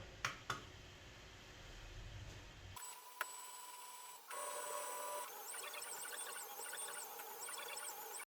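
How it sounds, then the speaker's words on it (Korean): A hand-built 3D printer, with its blower fan set to 100, runs a test heart print: faint, steady whirring with shifting, warbling stepper-motor tones that change pitch in patterns. "렌치와 드라이버만 사용해서 직접 손으로 만든 3D 프린터로 이렇게 하트를 뽑아 보았습니다"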